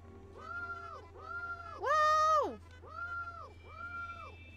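A cat meows several times in a row, close and clear, with one longer, louder cry in the middle, over a faint low hum and no talking.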